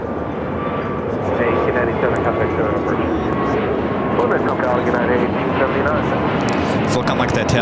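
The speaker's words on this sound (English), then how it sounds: "China Airlines, the A350-900, now pushing back." A China Airlines Airbus A350-900 pushing back at LAX, heard as a steady, loud broadband airport roar of aircraft engines that holds throughout, with a voice talking over it.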